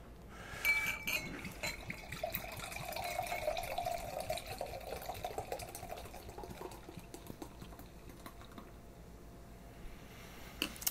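Chocolate and vanilla stout-style beers poured into glasses, a steady foamy liquid stream running for several seconds near the mic, then fizzing and settling quietly, with no talking.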